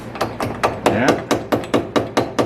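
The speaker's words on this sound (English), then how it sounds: "So get the old pick hammer, only a little one." A small pick hammer taps repeatedly on the metal of a Mercedes W109 front passenger door, about ten sharp, evenly spaced metallic knocks close by, with a voice briefly under the middle strikes.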